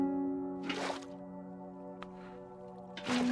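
Water being placed in Minecraft, a few soft splashy liquid bursts with a small drip between them, heard over a steady tonal game hum.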